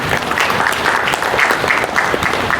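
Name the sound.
audience applause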